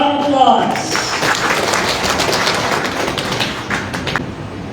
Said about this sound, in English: Let us give our appreciation through our massive round of applause